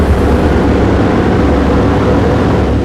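A World War II B-17 bomber's engines roar during takeoff over Texas, a loud, dense and continuous rumble heard from inside the aircraft with no break.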